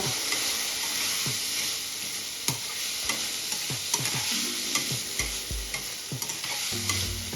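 Vegetables for vegetable idli being sautéed with salt in a hot pan: a continuous sizzle with repeated scraping spoon strokes and light knocks against the pan, close up, with no voices.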